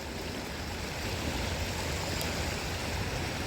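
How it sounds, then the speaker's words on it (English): Small creek water flowing steadily, a close, continuous rushing and gurgling wash with no pauses. "It's a small portion of the creek."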